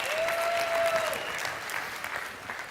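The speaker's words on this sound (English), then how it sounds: "Makes me feel better when you clap." An audience at a company convention bursts into brief applause, a dense wash of clapping from a crowd in a large hall, with no voices over it.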